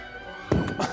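A mortar fired from a hand-held tube at a shooting range in the USA, heard as a sharp, hollow thunk halfway through followed by a fainter second thump.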